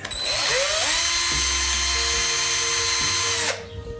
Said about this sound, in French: je vais venir percer